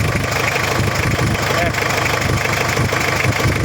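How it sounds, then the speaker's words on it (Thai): Mitsubishi L200 Cyclone dump-bed pickup engine idling, a steady low diesel rumble with slight knocking, close and continuous, with someone talking over it. "เครื่องเนี่ยมีสตาร์ทง่ายครับสตาร์ทติดติดนะครับไม่มีไอเลย"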